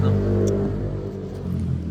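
Car engine heard from inside the cabin, a low steady hum with a slight rise in revs, running continuously at moderate level with no talk over it.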